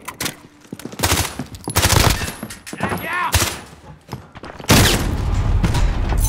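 Rapid bursts of gunfire in the Call of Duty Modern Warfare video game, loud and close, crackling in repeated volleys with a heavy, sustained stretch near the end, mixed with brief in-game voice callouts.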